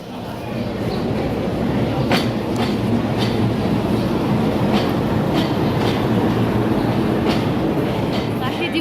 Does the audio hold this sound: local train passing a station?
yes